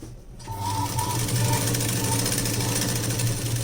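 A sewing machine stitches two layers of palazzo pants fabric in one continuous close, loud run after a brief quiet start, with a rapid steady needle rhythm.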